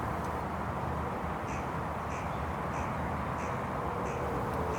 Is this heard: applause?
no